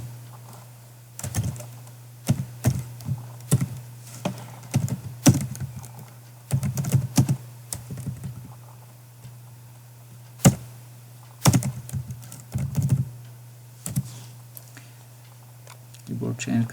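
Computer keyboard being typed on in irregular bursts of sharp clicks and key taps over a constant low electrical hum, with pauses between runs of keystrokes.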